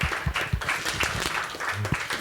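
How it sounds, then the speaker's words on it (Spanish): Audience applause closing a panel on social entrepreneur financing at Impact Days 2025, a steady wash of clapping with a few sharper, nearer claps standing out. "Nuevamente un aplauso muy grande"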